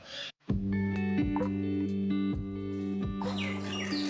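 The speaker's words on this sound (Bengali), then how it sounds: "আপনারা নিশ্চয়ই আমার কথার পিছনে পাখিদের ডাক শুনতে পাচ্ছেন।" Birds chirp outdoors in rural open country, with short bright calls at the start and a busier burst of tweets near the end, set against a steady tonal drone in the background.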